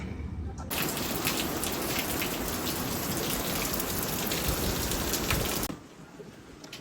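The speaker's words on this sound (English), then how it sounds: "Rainy day weather." Heavy rain pours down steadily on a tropical island, a loud, dense hiss that starts abruptly, holds for about five seconds and then cuts off to quieter background.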